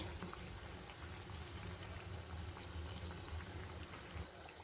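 Badusha sweets fry slowly in oil over a low flame, giving a soft, steady bubbling and fizzing that stays faint and even throughout, with no voices.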